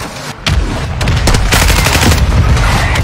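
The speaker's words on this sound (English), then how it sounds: "Hostile mortar strike incoming." A mortar strike lands in a first-person shooter video game, a sudden loud blast followed by sustained rumbling explosions and rapid gunfire-like bursts that fill the whole clip.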